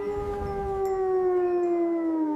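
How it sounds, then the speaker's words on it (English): A wolf lets out a single long, clear howl that slowly falls in pitch, heard alone and fairly close. "Who howls at the moon? It's a wolf."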